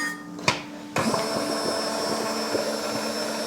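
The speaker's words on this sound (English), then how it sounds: "I'm going to take my immersion blender and blend up this soup" An immersion blender churns chicken pastina soup, switching on with a sudden whirring roar after a brief knock and then running loud and steady with slight wobbles.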